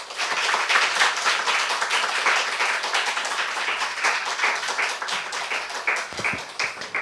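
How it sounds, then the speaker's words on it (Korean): A church congregation at an autumn revival service gives sustained, loud applause to welcome a deacon to the front, a dense wash of many hands clapping steadily throughout with no talking. "집사님을 환영하고 큰 박수로 모시도록 하겠습니다."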